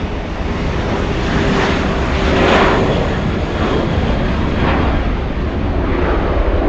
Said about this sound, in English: Southwest Airlines taxiing at Southwest speeds